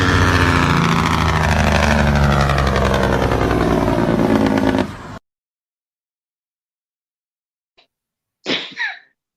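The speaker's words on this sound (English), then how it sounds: "That scooter is talking." Scooter engine running close and loud with a steady buzzing drone that cuts off abruptly halfway, followed by silence and then a short sneeze-like burst.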